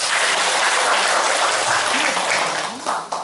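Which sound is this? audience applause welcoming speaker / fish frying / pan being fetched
audience applause welcoming speaker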